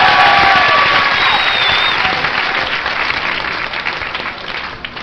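Audience applause and cheering at a live public radio broadcast, loud broad clapping with some whistles and shouts early on, gradually easing in volume over the few seconds.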